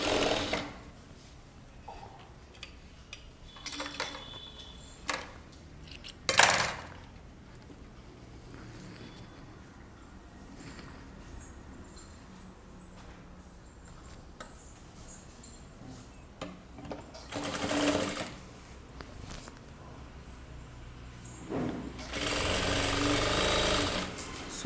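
A sewing machine stitching a one-inch bottom hem on a kurta, running in several short, loud bursts separated by quieter stretches of handling noise, with the longest run at the end.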